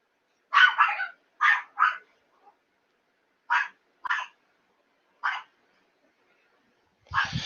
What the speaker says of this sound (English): Well, Delilah, what's the dog going crazy for?